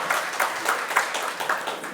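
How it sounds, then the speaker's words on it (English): A conference audience applauds to welcome a speaker on stage, giving brief, rhythmic, fairly close clapping from a crowd in a hall. "Can we give him a round of applause?"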